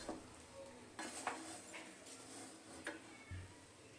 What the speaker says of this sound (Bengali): এবার আমি খুব ভালো করে নেড়ে দেব